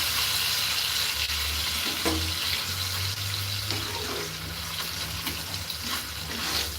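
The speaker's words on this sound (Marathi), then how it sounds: "आता याच्यामध्ये मी थोडंसं दही घालते." Yogurt being stirred into an onion, tomato, chilli and curry leaf gravy in a frying pan, with a steady sizzle and scraping stir running throughout, no talking.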